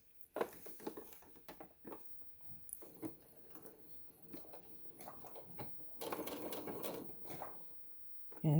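A sewing machine stitches a tote bag seam and then back stitches, giving a faint, uneven run of mechanical ticking with pauses and a denser burst of stitching near the end.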